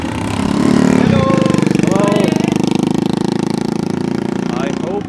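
A rickshaw engine chugs loudly and steadily at close range while a voice talks over it, with the running held to the end of the clip.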